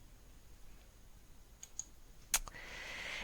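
A few faint, sharp computer mouse clicks in a quiet room, one louder click near the end followed by soft rustling.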